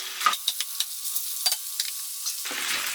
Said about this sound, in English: Just keep it moving, that's the important thing, it's the stir fry.